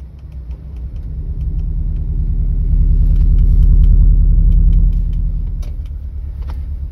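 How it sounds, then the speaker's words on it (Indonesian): A deep, rumbling virtual car exhaust note played through the stereo of a Toyota Calya or Daihatsu Sigra builds gradually, holds loudly in the middle, then eases back down, steady and close. "kalian bisa punya semacam knalpot virtual ya"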